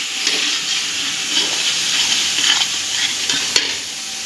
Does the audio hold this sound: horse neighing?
no